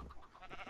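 Sheep bleating in Minecraft on a farm among other livestock, a single short, close bleat with no talk over it.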